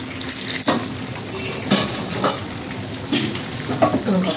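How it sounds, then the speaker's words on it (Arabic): Boiled cauliflower frying in oil in a pan, steady sizzling with occasional sharper crackles and clinks, close by. "وهكمل تحمير القرنبيط بتاعي"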